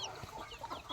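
Desi country hens cluck in short, uneven bursts at a poultry farm, several birds nearby at low volume.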